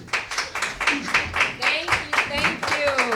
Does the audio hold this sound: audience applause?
yes